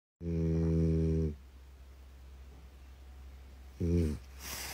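A dog snores loudly with a deep, buzzing rasp on one long inhale, then a quiet pause of breathing, then a second shorter snore, all close up.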